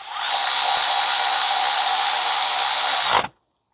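A power tool tightens the rear differential mount bolts on a 2015 Toyota Sienna 3.5 V6 AWD, one loud, steady whir running about three seconds before it stops abruptly and leaves silence.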